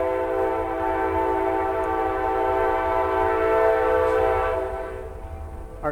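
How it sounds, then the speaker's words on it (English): A passing train sounds a steady, sustained horn chord that holds loud for several seconds before fading toward the end, with a continuous low rumble beneath it and no talking. "I found the train coming by."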